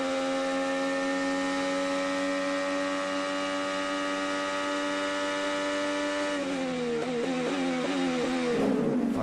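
An IndyCar race car engine at the Honda Indy Toronto street race, a steady high-pitched sustained drone that shifts near the end into rapid rising and falling pitch changes as the car goes through gears.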